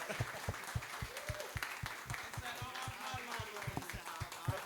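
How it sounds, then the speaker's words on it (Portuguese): An audience applauds guests at the end of a talk show with the band Grafith, scattered sharp claps ringing out over a murmur of voices and some laughter, moderately close. "Gente, vamos aplaudir os nossos convidados."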